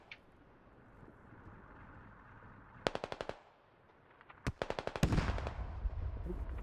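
Automatic gunfire in the game Squad comes in two quick rattling bursts, fairly faint and distant, over quiet ambient wind noise.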